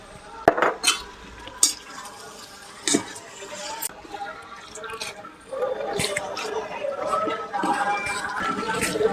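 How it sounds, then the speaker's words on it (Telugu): Gokarakaya (ivy gourd) curry with sesame and green chillies stirred in a pan after coriander powder goes in, giving scattered spoon scrapes and clinks against the pan over a soft background sizzle, with a voice occasionally in the background. "ఇప్పుడు కొంచెం ధనియాల పొడి వేసి మళ్ళీ ఒకసారి కలుపుకుందాం"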